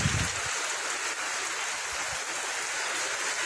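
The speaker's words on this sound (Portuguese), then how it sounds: "Muita chuva agora à tarde aqui" Heavy afternoon rain at a rural smallholding in Serrinha, Rio Grande do Norte, Brazil, a steady dense hiss of falling water filling the whole stretch with no talk.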